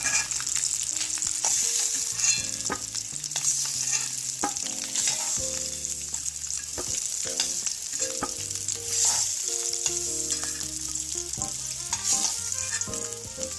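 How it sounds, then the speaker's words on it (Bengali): Eggs fry in hot oil in a pan with a loud, continuous sizzle and crackle, joined by soft stirring and scraping, close up with no talking. "ডিমটা ভাজা হয়ে যাচ্ছে।"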